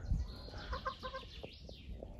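Geese and chickens eating chicken feed: soft clucking and honking calls with faint pecking, close but quiet, with a brief bird chirp near the end.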